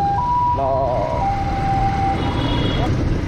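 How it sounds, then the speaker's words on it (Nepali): An ambulance siren wails through traffic on a road near an airport, a wavering tone rising over loud engine and road noise heard from a moving motorbike. "अब हेर्न एम्बुलेन्स आइरहेको छ"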